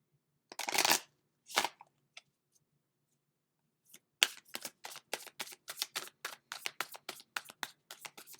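Tarot cards being shuffled by hand: a couple of riffles early on, a pause, then a rapid run of crisp, close card flicks and taps in an uneven rhythm, with no talk.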